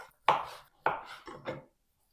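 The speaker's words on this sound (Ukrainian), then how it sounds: "І нарізаю Е, такі не дуже товсті шматочки." A knife cuts through sausage on a board, four sharp slicing chops in quick succession, close up and clear.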